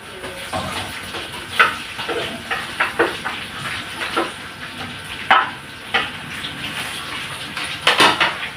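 Shrimp being cooked in a pan with frying garlic and butter, with a soft sizzle under repeated clinks and scrapes of a utensil stirring against the pan, sharp clatters scattered throughout.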